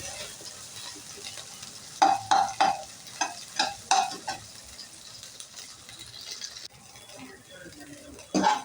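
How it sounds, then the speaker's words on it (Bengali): Soybean chunks for chilli soya fry in a pan with a constant sizzle, broken by a run of sharp scraping stirs and clacks in the middle and another near the end. "এই সয়াবিনগুলোকেও ভেজে নিচ্ছি"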